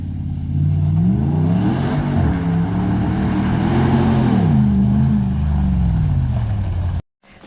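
A 1991 Toyota Hilux comp truck with a custom blue paint job revs hard on a backyard 4x4 track. Its loud, close engine climbs and falls in pitch for about seven seconds, then cuts off abruptly.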